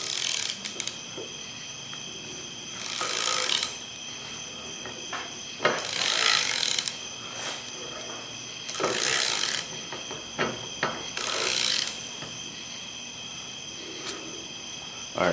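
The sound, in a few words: ratchet tightening on Dana 60 axle rebuild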